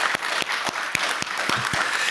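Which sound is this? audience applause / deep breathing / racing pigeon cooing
audience applause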